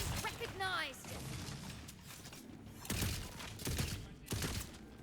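Crossbow bolts fire in the fantasy shooter Tiny Tina's Wonderlands as sharp, punchy bursts, with a couple of distinct shots standing out amid other gameplay noise and a faint voice.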